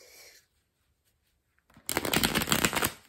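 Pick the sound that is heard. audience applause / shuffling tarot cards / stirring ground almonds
shuffling tarot cards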